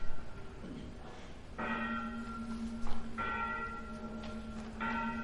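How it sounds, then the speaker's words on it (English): A stage bell tolls in a live theatre production of Macbeth, three clear resonant strikes spaced about 1.5 seconds apart, each ringing on with a sustained hum over faint room noise. "The bell invites me. Hear it not, Duncan, for it is a knell that summons thee to heaven or to hell."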